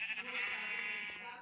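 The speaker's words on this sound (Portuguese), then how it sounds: "Eu não estou achando mais ovelhas," A sheep in Minecraft PE lets out a wavering bleat, close and fairly quiet, with no talk over it.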